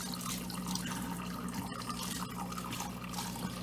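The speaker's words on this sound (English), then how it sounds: "We're going to put a little bit of water into this" Bucket of water slowly poured into a new, first-time home fish tank, a steady close rushing and splashing that runs continuously without pause.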